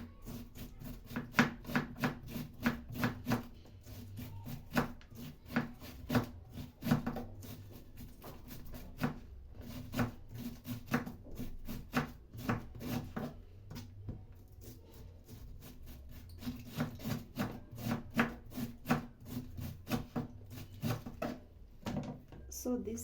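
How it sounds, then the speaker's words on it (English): A knife slicing cabbage into thin strips for salad on a cutting board, a long run of quick, even chopping taps close by, pausing now and then before resuming. "I'm going to cut this into thin slices to make the perfect salad"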